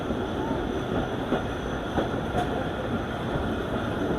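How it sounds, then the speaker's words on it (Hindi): Marvi Express passenger train running along a Pakistani line, giving a steady broadband rumble with faint clicks of the wheels and no talk. "अब काफ़ी वक्त के बाद ट्रेन चल रही है"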